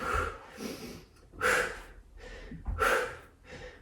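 During a yoga HIIT workout, forceful noisy breaths are pushed out through the nose and mouth in a steady rhythm of four loud exhales over about four seconds, close to the microphone with no talking.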